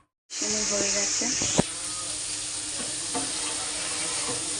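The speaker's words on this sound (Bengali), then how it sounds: "আর সয়াবিন ভাজছি" Soybean chunks fry in a pan with a steady broad sizzle throughout, while a spoon clinks and stirs against the metal, with one sharp knock near the start and some faint background voices.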